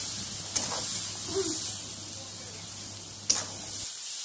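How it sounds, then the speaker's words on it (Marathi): Masala being stirred into frying capsicum (dhobli mirchi) in a pan for a village-style sabzi: a soft steady sizzle with a couple of sharp spoon clinks against the pan, no talking. "मसाला टाकल्यानंतर सर्व मसाला व्यवस्थित मिक्स करून घ्यायचा आहे।"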